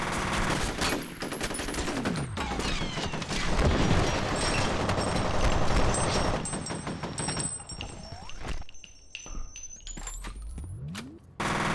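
Gunfire in the shooter game FEAR: dense, loud bursts of rapid automatic shots and booming impacts running almost continuously, with a brief lull near the end before more firing.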